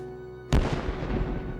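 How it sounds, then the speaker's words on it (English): Confederate cannons opening fire on Fort Sumter in Charleston harbor: a single sudden heavy boom bursts out of a quiet low hum, then rolls into a long rumbling, crackling decay. "the rebel guns open fire on the Union soldiers at Fort Sumter in the middle of the harbor"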